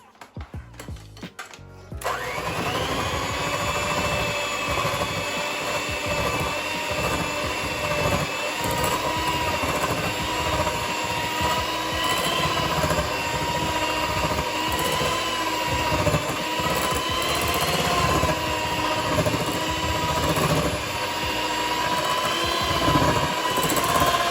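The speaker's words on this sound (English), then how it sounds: "I've just grabbed my hand whisk and I'm going to whiz it up till it goes really nice and fluffy" Electric hand whisk beating chilled raspberry ganache until fluffy, a steady loud motor whir starting after a brief rattle and holding continuously, with slight pitch wavering as it works through the mixture.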